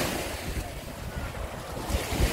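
Sea surf washes onto a beach of coarse sand and stones at Corigliano Rossano on the Ionian coast of Calabria. The wash is continuous and rushing, with wind buffeting the microphone and no voices over it.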